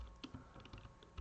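A few soft, faint clicks of typing on a computer keyboard, brief and quiet keystrokes close by.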